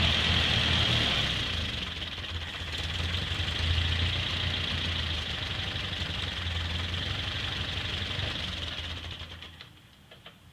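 A Ford 8N tractor engine idles close by with a steady low rumble and a constant ticking chug that holds evenly before fading near the end.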